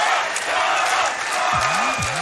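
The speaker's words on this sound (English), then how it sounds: "The crowd is loving it right now." A live crowd at a Super Mario Maker 2 race during the AGDQ 2020 speedrunning marathon cheers and applauds in a steady, roomy roar, with a few sharper shouts.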